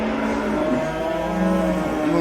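Pied cows low at a livestock market in Akhisar, Manisa, Turkey, one long drawn-out moo that shifts pitch, loud and close over a low background hum.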